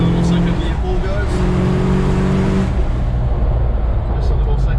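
A rebuilt 1978 Ford Bronco with a 351M V8 and hydraulic roller cam pulls hard in second gear, its engine roaring loud and close with rising, steady revs before easing off.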